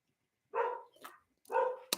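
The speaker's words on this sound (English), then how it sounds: "dogs barking" A dog barks twice, with a short, faint yelp between the barks. Each bark is a clear, mid-distance woof separated by silence.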